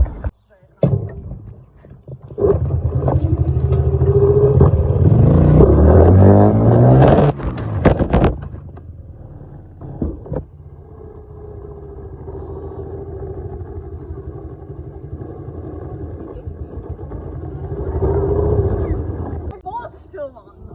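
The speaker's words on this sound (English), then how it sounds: "we're gonna just show you just him riding the dirt bike." Dirt bike engine revving and roaring as it is ridden, loud and close at first, then a steadier, softer drone that swells again near the end.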